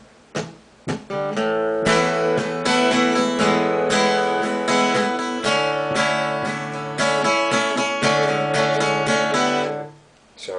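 A guitar strums and picks the chorus chords of a song, full ringing chords with steady rhythmic attacks and a few single notes, close and clear, ending in a brief pause.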